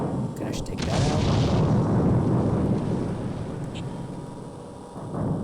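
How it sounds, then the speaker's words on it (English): A plasma cannon in Earthsiege 2 slams into its target with a heavy, rumbling blast that rolls on for several seconds, loud and close, fading gradually, with faint talk underneath. "It's so satisfying when the plasma cannon hits something."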